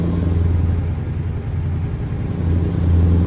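Truck engine in Euro Truck Simulator 2 held on the rev limiter, a steady, loud low drone with a constant hum and no break for the whole stretch.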